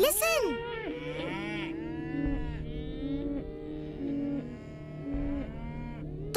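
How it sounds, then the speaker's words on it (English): Cattle moo in drawn-out, wavering calls over a steady droning musical bed, several animals overlapping across the clip. "The cows are in danger."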